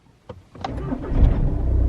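A car engine starts: a few brief clicks and a cranking burst, then the engine catches and settles into a rising, steady low rumble, close and fairly loud.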